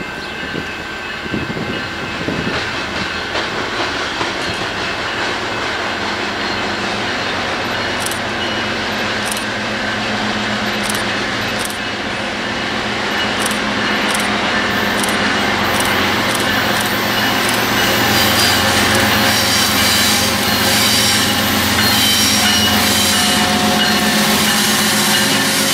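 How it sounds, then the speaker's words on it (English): A westbound BNSF autorack freight train led by locomotive 6597 rolls past after crossing rail diamonds, a long, steady rumble with clattering wheels that swells slightly louder toward the end. "After hitting the diamonds is a westbound DNSF autorack train with DNSF"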